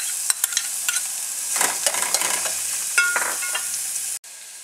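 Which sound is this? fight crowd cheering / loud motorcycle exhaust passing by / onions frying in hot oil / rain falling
onions frying in hot oil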